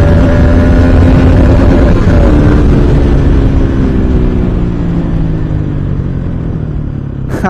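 A friend's motorcycle, ridden on a group ride alongside a Duke 250, drones with a loud, close engine hum whose tones slide down as it eases off, over steady wind and road rumble.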